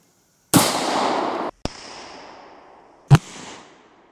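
A Desert Eagle .41 Magnum pistol fires two sharp, loud blasts about one and a half seconds apart, each followed by a decaying outdoor echo, after a short pause of silence.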